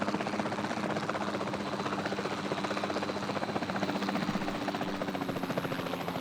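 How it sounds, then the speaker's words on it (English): A helicopter in the dinosaur park game Jurassic World Evolution 2 hovers with a steady, fairly quiet rotor thrum and engine buzz, an even pulsing drone with no speech. "I love taking pictures out of this helicopter already."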